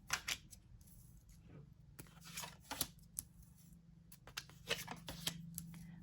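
Tarot cards shuffled by hand and pulled from the deck make crisp, intermittent riffles, snaps and slides that come in quick clusters, close and fairly quiet, with no talk.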